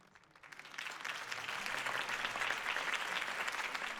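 Crowd applause after Harvey Dent's campaign speech in Batman: The Telltale Series, starting faintly, swelling within half a second into sustained clapping from a large audience, then holding steady, with no voices over it.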